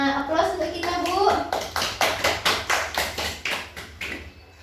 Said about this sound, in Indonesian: Aplaus untuk kita, Bu.